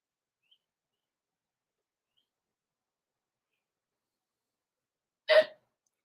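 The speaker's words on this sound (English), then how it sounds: "Was that a hiccup?" A single short hiccup breaks an otherwise silent stretch, sharp and close, near the end.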